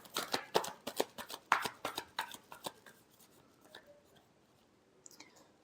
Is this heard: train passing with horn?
no